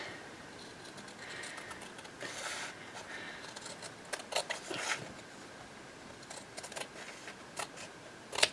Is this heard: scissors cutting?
yes